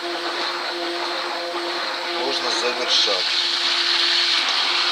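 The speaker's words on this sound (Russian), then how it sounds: "Поэтому можно так сказать, что перемешивание блендером" An immersion blender mixes olive oil soap base with lye, giving a steady whirring hum that holds for the whole stretch, close by and fairly loud, while a person speaks over it.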